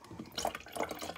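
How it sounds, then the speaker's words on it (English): Sunny D orange juice is poured from a bottle, giving a brief, soft splashing trickle of liquid with two quick bursts close to the microphone. "Double pour."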